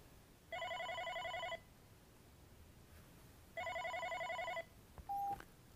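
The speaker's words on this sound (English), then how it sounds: "So, as I wait for the incoming call," A Unify desk phone rings with an incoming call, two bursts of bright electronic trilling about a second long each, separated by a quiet gap, followed by a short beep.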